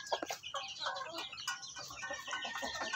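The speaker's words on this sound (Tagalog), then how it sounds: "Ayan yung inahin." A hen clucks repeatedly at close range among other chickens in a farmyard. Quick, busy chatter of fowl calls fills the whole stretch.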